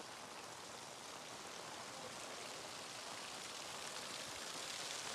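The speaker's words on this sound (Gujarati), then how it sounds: "એક નંબર પડે વરસાદ" Rain falling steadily, a dense, even hiss of drops throughout, fairly quiet and with no voices.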